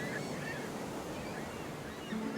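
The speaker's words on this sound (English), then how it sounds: "Oh, it's a seagull!" A seagull calls with faint, honking cries over steady surf and ocean wash in the indie game Map Map, heard at a distance with no talk.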